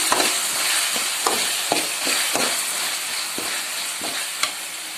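Onions and green chilli sauté in a pan for drumstick kara kuzhambu, a steady close sizzle punctuated by a string of sharp spatula taps and scrapes.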